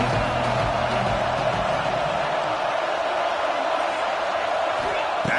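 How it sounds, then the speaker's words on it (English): Crowd noise fills a stadium in an American football video game, a broad sustained roar rising on third down, loud and continuous with commentary-style speech mixed in. "Third down and the crowd really getting into it"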